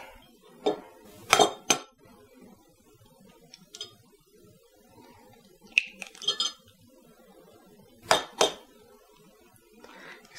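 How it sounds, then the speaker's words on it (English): Five eggs are beaten in a bowl for fried rice, heard as scattered clusters of clinking utensil strikes against the bowl separated by quiet pauses, fairly close. "I'm going to just beat about 5 eggs"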